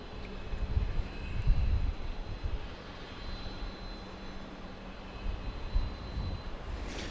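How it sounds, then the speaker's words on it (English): A Boeing 737 MAX 8 jet readies for takeoff at Dallas Love Field at night, giving a low, rumbling engine drone that swells and eases in soft pulses. A faint high whine holds steady above it, and no one speaks. "Flight 2554 to Austin. We spoke of this earlier. Now it's getting ready to take off. It's a MAX 8."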